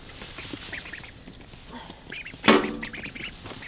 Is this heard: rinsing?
no